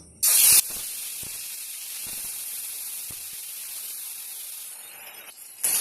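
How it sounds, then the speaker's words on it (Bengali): Lote fish (Bombay duck) dropped into hot mustard oil, giving a loud burst of sizzle followed by a steady, close hiss of frying that continues throughout, then flares up again near the end. "তেলটা গরম হয়ে গেছে এবার মাছগুলো একে একে দিয়ে দেবো"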